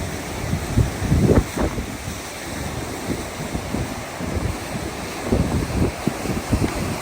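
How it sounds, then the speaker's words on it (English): Strong wind buffets the microphone at a steep hilltop viewpoint above a tall waterfall, gusting in uneven rumbling bursts with a steady hiss throughout and no talking. "It is windy, it is a little bit cold"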